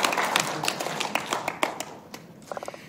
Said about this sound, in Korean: 우리 박수 한번 다시 해주시죠